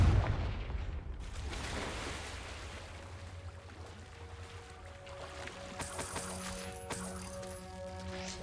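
A Confringo fire spell blasting in the Hogwarts Legacy video game inside a cave, a loud booming burst at the start that decays into a low rumble, followed by shimmering magical tones and ringing effects.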